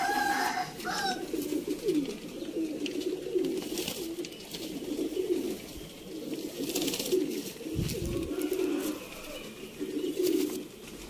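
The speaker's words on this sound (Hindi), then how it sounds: "तो दोस्तों कबूतर हो गए ने 5" Rampuri pigeons cooing in a row of soft, repeated throaty coos, close by and steady, with some background noise and faint talk in the surroundings.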